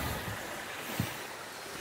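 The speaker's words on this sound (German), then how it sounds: "Da fließt wirklich schön hinter dem Fels das Wasser hervor." Water runs out from behind a rock along a wet hiking trail in the burned forest area near Hohnstein, a steady broadband rush with a single faint knock partway through.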